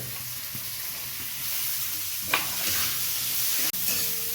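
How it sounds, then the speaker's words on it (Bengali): Onion and tomato sizzle in hot oil for a moong dal tempering, a steady bright frying hiss with occasional spatters and a brief clatter near the end. "আর এদিকে ডালের যে ফোড়ন দিয়ে রেডি করা হচ্ছে আর তার সাথে পেঁয়াজ টমেটো সেগুলো সব দেওয়া হচ্ছে"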